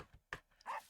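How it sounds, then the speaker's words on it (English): A dog barks in a cave in a video game, giving a few short, separate yips and barks at close range, with no talking. "I like the new dog sounds"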